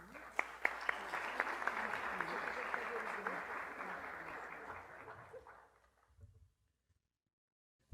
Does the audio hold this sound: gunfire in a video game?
no